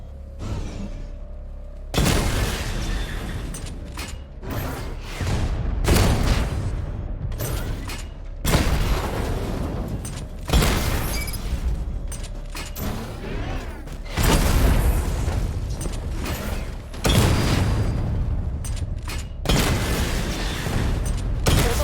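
A missile barrage in Batman: Arkham Knight sets off a run of loud booming blasts, several heavy bursts each trailing off before the next, with whooshes and mechanical clanks between them.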